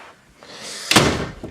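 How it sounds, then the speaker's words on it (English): A door being shut indoors in a home office, a rising whoosh of movement ending in a solid, close slam followed by a brief rattle. "You gonna shut the door?"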